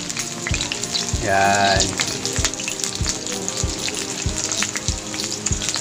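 Fish frying in a pan sizzles loudly and steadily up close, crackling and popping like rain throughout, with a brief voice speaking near the start.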